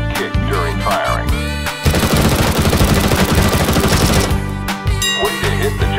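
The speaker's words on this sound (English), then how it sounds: "pick up that weapon and unload the clip into the target" Rapid weapon fire from Counter-Strike (CS:GO) aimed at a wooden target, a dense sustained burst of loud shots between shorter bursts, with no talking.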